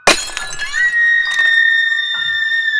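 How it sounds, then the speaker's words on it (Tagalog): A glass mirror shatters after a thrown stool strikes it, starting with a loud crash and followed by tinkling shards and a long, ringing resonant tone that slowly fades. "Isang nakabibinging tunog ng nababasag na salamin ang umalangaw-ngaw"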